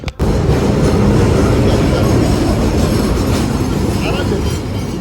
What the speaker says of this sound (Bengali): ঝনঝন ঝনঝন ট্রেন চলে আসছে